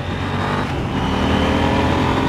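A KTM 890 Duke R motorcycle engine drones loud and steady while being ridden through bends, with a continuous roar and rushing wind noise and no pauses or talk.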